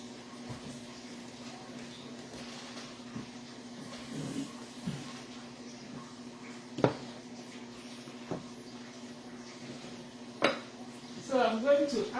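Mixing bowls are washed out at a kitchen sink while making almond bread: sparse, close clinks and knocks of dishes over a steady hum, with a flurry of clattering near the end.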